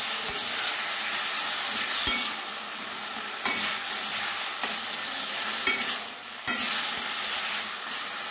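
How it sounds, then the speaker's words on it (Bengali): Tomato chutney with dried mango pulp and sugar drops is stirred in a pan over a low flame, a continuous soft sizzle broken by a few sharp spoon scrapes and knocks. "এবার লো ফ্লেমে আমি খানিকক্ষণ এইভাবে নেড়ে যাব।"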